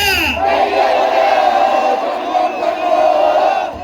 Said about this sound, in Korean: 다시 한번 가볼게요 지금보다 딱 두 배만 더 큰 목소리로 페나자